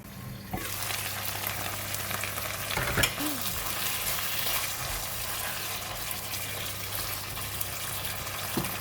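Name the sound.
eggplant and prawns cooking in a covered pan in Thai red curry paste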